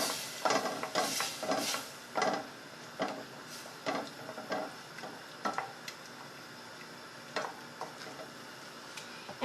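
Crème fraîche being stirred into a mussel sauce in a pan, a series of soft scraping strokes and light clinks with a faint sizzle underneath, close and moderately quiet.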